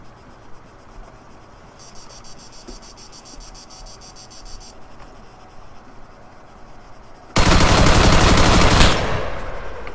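Automatic gunfire in ArmA 3 erupts as a dense, loud burst of rapid shots lasting about a second and a half near the end, over a steady bed of chirping crickets and faint ambient outdoor noise.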